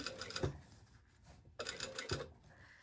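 A sewing machine works on a collar and facings in two short bursts of stitching with quiet handling clicks between them, close by and moderately loud.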